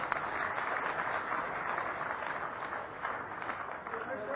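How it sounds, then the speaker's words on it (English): Dense applause from a seated audience at an automotive component makers' annual session awards ceremony in India, a steady wash of many hands clapping at even loudness throughout with no break. "May we have a round of applause,"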